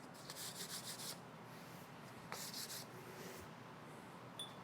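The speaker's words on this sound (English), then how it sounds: "I'll go ahead and hit it with some sandpaper right quick" Sandpaper rubs against the rounded corners of a leather piece in a workshop, in short quiet strokes of scratchy friction that come in a few separate bursts.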